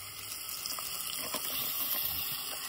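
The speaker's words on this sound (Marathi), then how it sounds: "वरतून माका जितक्या पाणी हवं तसं मी पाणी टाकतोय" Water is poured into a fish curry cooking in a pot with a soft, steady gurgling pour nearby, faint and continuous.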